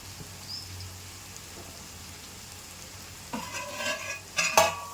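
Grated coconut is added to lightly fried onions in a pan for a dhal and coconut curry, with a quiet sizzle building into louder scraping stirs toward the end.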